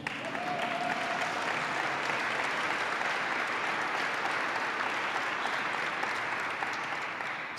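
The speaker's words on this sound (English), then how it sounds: "We can clap if you want." An audience at a home rule petition signing ceremony breaks into sustained applause, a dense, even wash of many hands clapping at steady loudness for several seconds with no speech over it.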